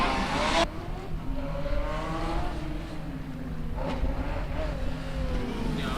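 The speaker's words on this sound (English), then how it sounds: "enjoying the more analog smell and sound of these combustion vehicles from years past" A historic combustion-engined race car, Diepholz's H69, runs an autocross course, its engine revving up and down in rising and falling tones at moderate distance after a brief loud burst at the start.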